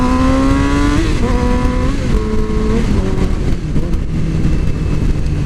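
A 2007 Yamaha R6 sport motorcycle accelerates hard. Its engine whines up in pitch, with quick gear shifts about once a second. The sound is close and loud, with no talking.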